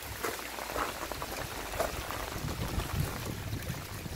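Rainwater rushing down a pipe through a filter into a rainwater butt in a catchment system, a continuous splashing, trickling pour with scattered drips, fairly close and steady.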